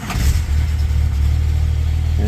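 An old car's engine fires up at the starter button with the gear lever in neutral, then settles into a loud, close, steady low idle rumble.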